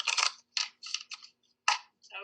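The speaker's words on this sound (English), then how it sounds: "Karen, I feel a need to shuffle a few times" Playing or tarot cards are shuffled close by in short bursts, several crisp riffles separated by brief silences, with no talk over them.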